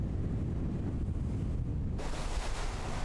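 Rough sea waves breaking against a small rock island off Dangjin on Korea's west coast, a continuous surging wash with wind buffeting, growing brighter and louder partway through.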